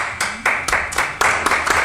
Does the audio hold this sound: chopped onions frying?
no